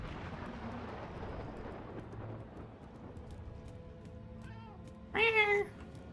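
After a stretch of quiet room noise, a person gives one short, loud meow imitating a cat, with a rising-falling tonal whine.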